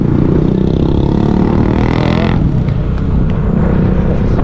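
Many motorcycles pass by outside a crowded Fantasy World amusement park on a Saturday, their engines forming a loud, continuous roar with a clattering rasp and a shift in pitch as they go by.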